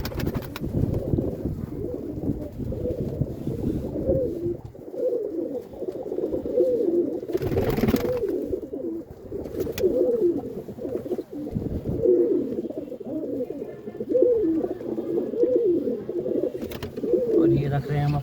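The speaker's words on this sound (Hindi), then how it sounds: "बारिश की वजह से आज धामड़ी में ही कबूतर चुगाने पड़ रहे हैं।" Pigeons kept indoors because of rain coo repeatedly in soft, rolling calls while being fed grain, with rustling and scattered flutters close by and a person speaking now and then.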